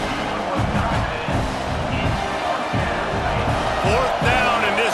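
Stadium crowd noise from EA Sports College Football 26 during a fourth-down defensive stand, a steady roar with rhythmic chanting pulses, loud throughout beneath a commentator's voice.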